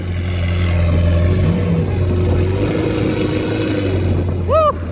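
A McLaren 720 supercar engine runs loud and close as a steady, deep, throbbing drone with a slight swell of revs, ending in a few quick high chirps.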